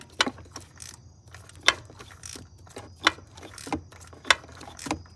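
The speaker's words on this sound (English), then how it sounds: "now we're gonna hook the ratchet up to it and start to loosen it" A hand ratchet loosens a spark plug on a 2016 Subaru Outback 2.5L, giving a steady series of sharp, close metallic clicking bursts, about one every second.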